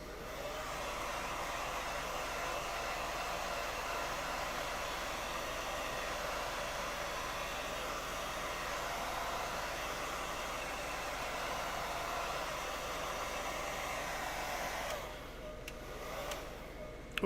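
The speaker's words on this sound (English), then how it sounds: "Let's hit through the hair dryer." A hair dryer blows steadily to dry glue on foam for a prop alien neck. Its even, breathy whoosh runs for about fifteen seconds at moderate volume, then cuts off near the end.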